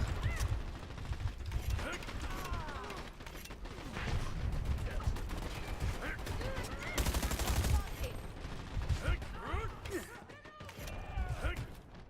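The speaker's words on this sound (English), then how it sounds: "I reload." Gunfire and mechanical weapon clacks and ratchets fill a Dirty Bomb match, with a weapon reload among busy overlapping shots and a voice talking over it.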